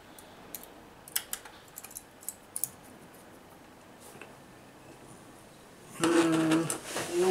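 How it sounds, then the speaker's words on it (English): Screws being fitted back one by one into an Asus R9 390X graphics card during reassembly: a scatter of small, close, light metallic clicks and ticks, followed by a louder burst of broadband noise near the end. "now we just take the screws and pop them back in one by one"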